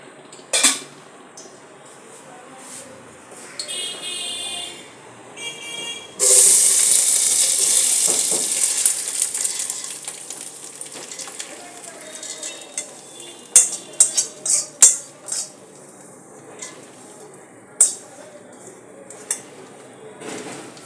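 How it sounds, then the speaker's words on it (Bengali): Rice frying in a pan with whole garam masala, cinnamon and cloves: a burst of hiss and sizzle as the rice goes in, then intermittent metal spoon clinks and scrapes against the pan, close by. "দিয়ে এবার চালটা আমি ভেজে নেবো"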